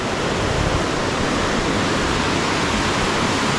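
Water rushing through a blocked stream where fishermen are catching fish, a loud, constant close-up roar of flowing water filling the whole clip with no talk.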